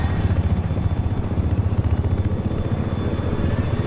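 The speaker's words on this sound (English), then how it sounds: "oh, there's an attack chopper." Attack helicopter in Battlefield 4, a steady rapid rotor thump with engine whine, loud and continuous throughout, no talking.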